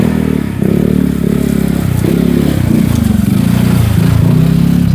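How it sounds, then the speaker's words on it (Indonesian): A motorcycle in a quiet village, its engine chugging close and loud with a steady pulsing rumble and some rattling clatter, no talk over it. "Waduh, ada motor."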